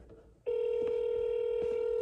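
A phone line emits a loud steady dial or ringback tone that switches on abruptly and holds continuously during a cold call, with a faint voice underneath.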